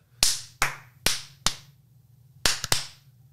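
Several loud, close hand claps, four evenly spaced and then a quick burst of three, each sharp with a short ringing decay in a quiet room.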